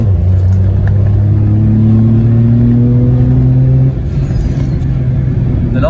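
Citroen C1 with its airbox removed, engine droning and revving at a steady pitch from inside the car, loud and close, then easing back to a lower hum near the end, no speech.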